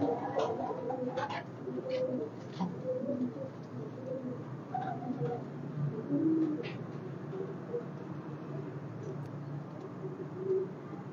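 A flock of performing rooftop pigeons in Gujrat coo repeatedly in low, rolling calls, several birds overlapping at close to moderate distance, with faint background noise throughout.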